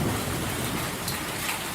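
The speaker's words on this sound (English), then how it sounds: "a summer storm that swept through Sydney and the Hawkesbury" Heavy rain pours steadily during a violent summer thunderstorm in Sydney, a dense, loud wash of rainfall with thunder rumbling underneath throughout.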